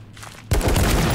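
A shotgun blast erupts in the H1Z1 battle royale game, a sudden loud, close report after a half-second of quiet that sustains as a dense, rattling burst through the end.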